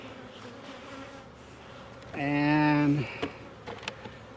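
Honey bees swarm around an opened beehive kept as a single brood chamber, a loud swell of buzzing rising for under a second, over faint background noise and a brief spoken word.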